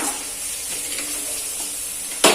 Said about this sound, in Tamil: வெங்காயம் நல்லா வதங்கிருக்கு பாருங்க